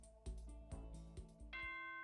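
An announcement chime plays in the video game Danganronpa: Trigger Happy Havoc, a few soft descending bell tones followed by a sustained ringing note, clear over a quiet background.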